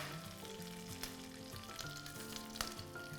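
Lentils (chana dal and urad dal) sizzle and crackle steadily in hot oil with mustard seeds and lots of curry leaves as a South Indian tempering for Udupi uppittu, with a few sharper pops and no talking.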